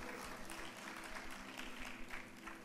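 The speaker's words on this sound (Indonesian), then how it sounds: "Ya tepuk tangan dulu dong." Church audience applauding at a community service, a soft, distant patter of clapping hands continuing throughout, with faint voices mixed in.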